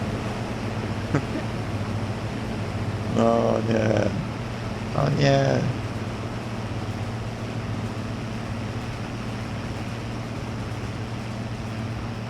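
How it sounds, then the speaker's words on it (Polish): A tractor engine in Farming Simulator 22 drones as it labors uphill on a farm map, a steady low hum running throughout while someone speaks and laughs over it. "O, ciągnik nie daje rady, pod górkę."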